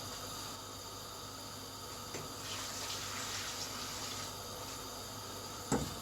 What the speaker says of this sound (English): So I put water in a pan,